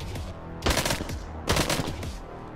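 Gunfire in the VR zombie game Arizona Sunshine: two loud, sharp shots about a second apart, each with a short ringing tail, over a low steady background.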